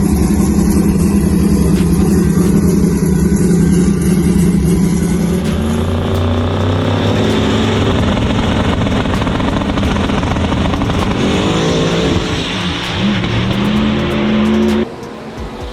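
A 2010 Camaro drag car with Hemi blow-through power roars loudly and continuously at the track, a steady high-powered engine drone that holds for about fifteen seconds before dropping off sharply near the end.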